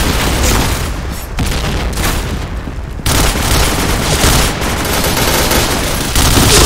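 A grenade blast and gunfire from a competitive online shooter match pile into a dense, continuous roar of loud explosions and shooting with no clear breaks.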